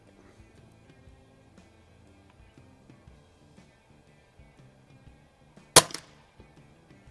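A single sharp, loud rifle shot from a Notos rifle fitted with a CVLife Jackalhowl 1-4x20 LPVO cracks out at an outdoor range after several seconds of quiet background noise.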